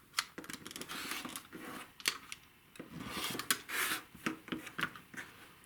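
A rotary cutter trimming quilt half-square triangles against a ruler, heard as faint, close scraping and rubbing strokes with soft taps, quiet and without talk.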